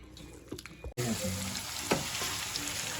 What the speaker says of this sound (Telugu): ఇలా చికెన్ని ఆయిల్లో వేసి కొద్ది ఐదు నిమిషాల పాటు ఉంచాలి